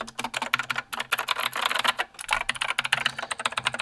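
Fast, steady typing on a Razer BlackWidow mechanical keyboard with clicky, tactile Razer switches and inexpensive custom keycaps, giving a dense, close patter of crisp key clacks with no voices.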